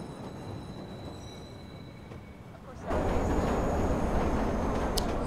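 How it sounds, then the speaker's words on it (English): A train pulls into a station in the video game Watch Dogs, a low rumbling roll that swells suddenly louder and holds steady, with a brief high squeal near the end. "Southbound train arriving shortly."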